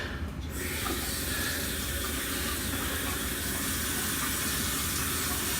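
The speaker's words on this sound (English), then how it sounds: "So you guys can hear the water running." Water runs steadily from a bathroom sink faucet during a leak test, a continuous close hiss and splash holding at an even level throughout with no voices.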